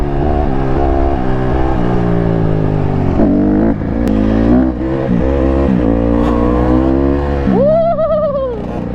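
A two-stroke 125 dirt bike engine revs loudly and close, its pitch rising and falling with the throttle and climbing into a sharp high rev near the end.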